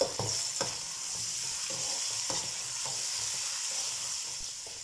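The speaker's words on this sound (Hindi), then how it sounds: "प्याज हमने शामिल कर दिया है, ऑयल हमारा गर्म हो चुका था। तो प्याज को भी हम यहाँ पर सुनहरा कर लेंगे।" Chopped onions frying in hot cooking oil for an aloo matar sabzi, a steady close sizzle and hiss with occasional stirring scrapes, fairly quiet and with no talking.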